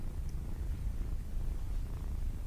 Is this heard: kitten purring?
yes